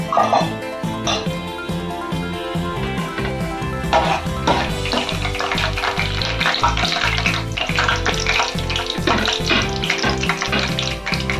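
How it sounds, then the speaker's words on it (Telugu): Tempering seeds crackle and sizzle in hot oil for a mango dal, a busy, close frying hiss dotted with popping and clattering bursts throughout. "ఆయిల్ వేడైంది తాలింపు గింజలు వేసుకున్నాం"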